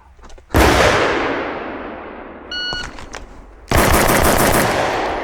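Rapid pistol shots fired during a Bill Drill, two loud bursts of closely spaced gunfire separated by a short pause with a faint electronic timer beep between them, ringing out close and sharp outdoors.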